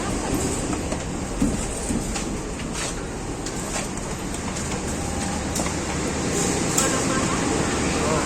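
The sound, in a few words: Progo passenger train arriving at station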